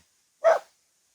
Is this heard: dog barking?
yes